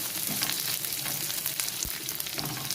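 Chopped onions fry in hot oil until red, with a steady, dense sizzle that stays close and even for a few seconds and has no voices over it.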